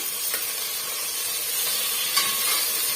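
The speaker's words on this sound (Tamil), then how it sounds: "வெங்காயம் வந்து ஓரளவுக்கு வதங்கி வந்துடுச்சு இப்போ ரெண்டு மீடியம் சைஸு தக்காளி பழம் ஸ்லைஸ் பண்ணி வச்சுருக்கேன் சேர்த்து விட்டுக்கலாம்" Onions already softened in a pan with two sliced medium tomatoes just added give a steady, close sizzle and hiss of frying with faint stirring scrapes, no voices.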